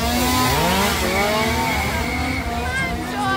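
A chainsaw motor drones and revs continuously at Halloween Horror Nights 2018, rising and falling in pitch, loud and close throughout.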